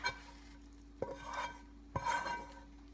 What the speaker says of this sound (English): So now I'm just going to spoon this straight from the pan onto here.